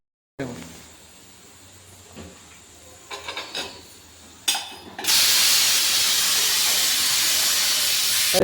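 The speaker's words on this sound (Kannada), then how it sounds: "2 ವಿಷಲ್ ಕೂಗಾಯಿತು, ಬಿರಿಯಾನಿನೂ ರೆಡಿ ಆಯಿತು." A pressure cooker of biryani lets off a loud, sustained hissing whistle of steam in a home kitchen, following a few scattered clatters and knocks.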